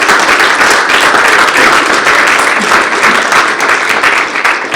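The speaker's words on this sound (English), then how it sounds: "Let's hear it for Chris" Loud, dense applause from a large audience fills the room continuously, steady clapping without a break, welcoming a person named Chris to a stage at a live event.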